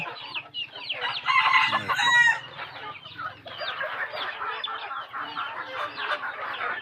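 Several native chickens cluck and chatter continuously as they drink water, close by, with rapid overlapping calls that grow louder for a moment in the middle.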